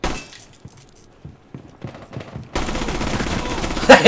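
Quiet thuds and clicks give way to a sudden, dense burst of rapid video game gunfire shooting through walls, loud and continuous, with sharper cracks near the end.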